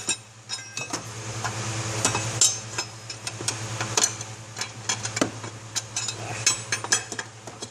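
Metal tools clink and tap while a compressor pulley is held and tightened on a 2007 Hummer H3 A/C compressor, with sharp irregular clicks over a steady low hum.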